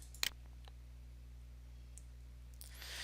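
A single computer mouse click on a link, sharp, close and brief, followed by near silence over a faint steady hum.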